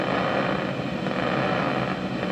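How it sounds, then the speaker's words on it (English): Electrical activity of a single brain cell sent to a loudspeaker, a dense, steady crackling hiss of rapid tiny pops with no pauses, loud and continuous throughout with no voices. "this is how it sounds if you connect the electrical activity of this cell"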